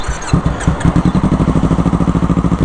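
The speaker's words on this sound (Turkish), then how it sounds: "Sadece egzozu çıkarttım." Yamaha MT-25 motorcycle with its exhaust removed, the engine catching, then revving in a fast, loud, rhythmic throb of pulsing firing close to the microphone.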